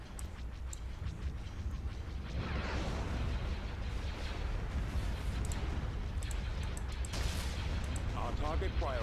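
Ship weapons fire in a Star Wars space strategy game: a dense, continuous barrage of booming blasts and whooshing shots, with voices talking over the battle.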